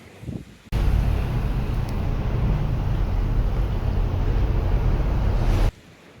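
Loud, steady rushing wind roars and buffets inside a lighthouse for several seconds, starting and stopping abruptly, with no voices.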